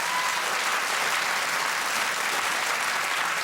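A television studio audience on a chat show gives a burst of warm, dense applause, steady and fairly loud throughout the short stretch, with no voices on top.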